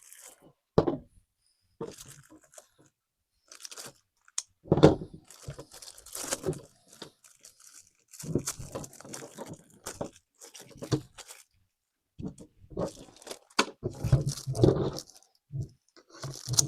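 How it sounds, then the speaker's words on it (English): Plastic wrap is peeled and crinkled off a budget Ozeino Z1 gaming headset, close-up, in irregular bursts of tearing and crackling separated by short pauses, with no talking. "So let's take this plastic off here."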